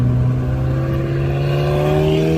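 McLaren 720 supercar engine at a GoldRush Rally event at Radford Racing School in Chandler, Arizona, a steady loud drone with rising harmonic pitch as it revs or accelerates close by, no talk.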